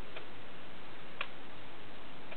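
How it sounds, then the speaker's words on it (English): A verge and foliot clock, the type of the Salisbury Cathedral mechanism, with its escapement working: faint, sparse ticks, including one sharper tick near the middle, over a steady background hiss. "There, it's just ticking away."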